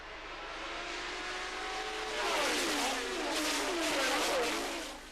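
Several 1977 Formula 1 cars scream past at Silverstone, engine whines sweeping down in pitch as they pass on the start-finish straight, loud and sustained with overlapping passes.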